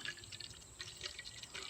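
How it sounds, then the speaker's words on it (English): A homemade summer drink is poured into a plastic cup, a faint light trickle and dripping of liquid, soft and continuous. "I'm gonna go ahead and pour this up in here"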